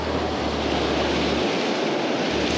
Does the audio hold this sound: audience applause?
no